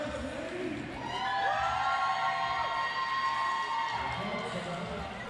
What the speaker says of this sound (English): The crowd really getting into it here at the Adelaide Showgrounds